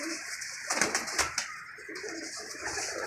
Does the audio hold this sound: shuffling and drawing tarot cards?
no